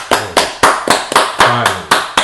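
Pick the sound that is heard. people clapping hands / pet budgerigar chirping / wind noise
people clapping hands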